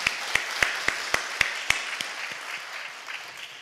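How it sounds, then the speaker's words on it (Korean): Church congregation applause, heard as a brief run of distinct, evenly spaced claps that grow fainter and die away within a few seconds. "우리 하나님 앞에 영광의 박수 올려드립시다."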